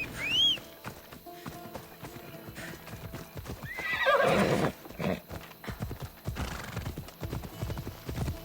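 Horse in the video game Assassin's Creed Odyssey, a sharp whinny at the start followed by a brief snort and clip-clopping hooves that build into a louder trotting burst, then continue as steady footfalls.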